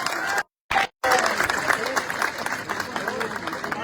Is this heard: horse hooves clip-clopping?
no